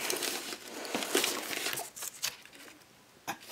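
Close, crackly crinkling of the packaging of a vintage Stud card deck, busy at first, then thinning to a few scattered rustles.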